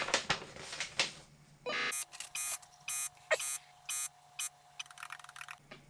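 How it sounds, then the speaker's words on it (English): Simple square-wave beeper music from a game on an Orel BK-08 computer: a run of short, evenly spaced electronic tones with a steady hum underneath, following some clicking key taps. "we've even got some beeper music"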